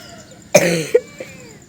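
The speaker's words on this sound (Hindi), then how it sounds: "खांसी बहुत है मुझे।" A single sharp, close cough followed by a brief raspy tail and a small second hack, in an otherwise quiet room.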